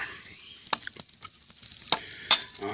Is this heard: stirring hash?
yes